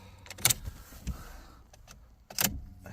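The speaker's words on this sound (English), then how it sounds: "we can twist now the ignition" A key turns in a repaired Ford Focus ignition barrel: a few sharp, close clicks and brief key-ring jingles, spaced apart, with quiet pauses between them.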